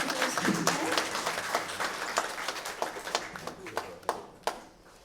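Applause from the audience at a patriotic evening gathering marking the 101st anniversary of Polish independence: dense, steady clapping across the room that thins toward the end, leaving a few scattered, sharper individual claps.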